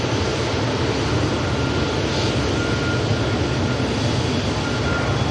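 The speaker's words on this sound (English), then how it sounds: "Ryanair dip behind, just taking off behind this route here." A Ryanair jet takes off at Manchester Airport, its engines a broad continuous roar with a faint whine, heard outdoors at a steady, fairly loud level.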